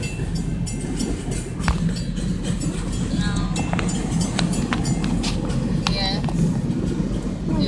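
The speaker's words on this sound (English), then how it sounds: "Then we got this stupid train going by." A passing train gives a steady, loud low-frequency rumble with rhythmic clacking throughout, heard close by while people talk over it.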